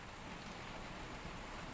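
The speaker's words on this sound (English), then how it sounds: "do apologise for the rain." Heavy rain pours down steadily, a dense, even hiss of drops drumming on surfaces without a break.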